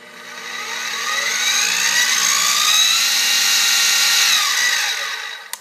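A SIEG X2D milling machine spindle spins up in its high range, near 2,500 RPM, a loud high-pitched motor whine that rises and holds steady before cutting off abruptly at the end, with no talk.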